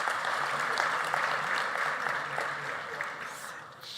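An audience at the launch of South Africa's 2024 national and provincial elections applauds a choir from Tshwane University of Technology, with sustained clapping from a sizeable crowd that holds steady and then slowly eases off.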